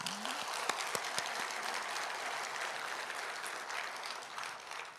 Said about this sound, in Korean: 우리 평신도들이 장로님한테 박수 한번 합시다